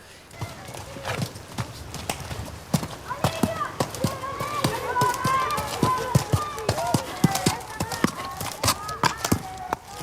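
Hooves of a ridden horse clip-clop in a steady rhythm during a riding lesson, close and fairly loud, with a voice talking over them.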